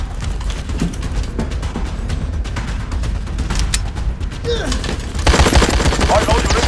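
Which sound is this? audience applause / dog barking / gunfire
gunfire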